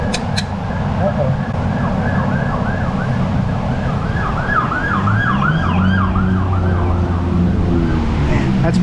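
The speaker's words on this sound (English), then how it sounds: "That's police instead of ambulance this time." A police siren wails in quick rising and falling cycles, fairly loud and nearby, over a constant rumble of road traffic.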